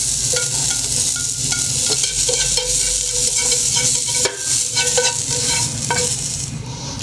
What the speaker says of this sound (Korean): 당근을 볶아보겠습니다.